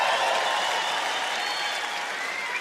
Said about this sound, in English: Thank you for those of you applauding that